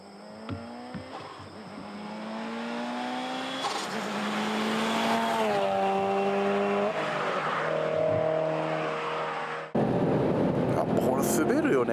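A current-model street tuning car slides on a circuit, its engine revving and droning up and down up close while tires squeal, with people talking over it.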